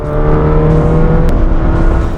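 Race car lapping High Plains Raceway, its engine holding a loud, steady droning note close by with slight pitch shifts through the full stretch, no voices.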